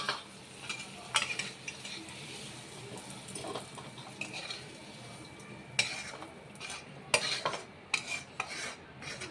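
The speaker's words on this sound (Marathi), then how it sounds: "बघा आता याच्यात तळून द्यायचे." Ingredients for a sweet raw mango pickle fry in a pan with a soft, steady sizzle, broken by a few sharp clinks and scrapes of a utensil against the pan.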